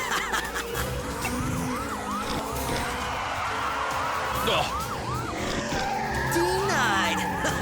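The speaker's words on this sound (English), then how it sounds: "Watch me hit the brakes" Tires squeal and skid as a rescue vehicle in the cartoon Transformers: Rescue Bots brakes hard, chirping screeches rising over a busy backdrop of engine roar, sirens and action music, with character voices talking throughout.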